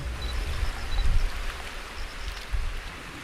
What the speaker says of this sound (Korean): 빗줄기는 우산으로 막을 수 있을 만큼 가늘어졌습니다.